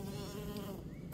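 Bees fly in and out of a nest hollowed inside a siris plant pot, making a steady, close, continuous buzzing hum with no pauses.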